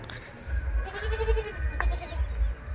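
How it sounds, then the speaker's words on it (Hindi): Goats being led out toward a river in an Indian village bleat in a wavering call midway through, over steady low rumbling background noise outdoors. "चलते हैं बकरी को निकालते हैं"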